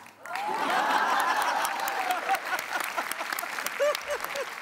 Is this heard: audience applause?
yes